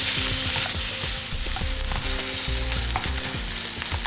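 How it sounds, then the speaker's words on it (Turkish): Carrot, celery and pepper sautéing with minced meat and tomato paste in a pan, a loud, dense, continuous sizzle up close with spatula scrapes mixed in. "Malzemeler bulana kadar kavurmaya devam ediyoruz."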